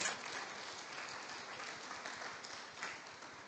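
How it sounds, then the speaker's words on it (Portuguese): A church congregation at a worship service applauds, a quiet, even patter of many hands clapping from some distance, with no talk over it. "pode aplaudir o Senhor"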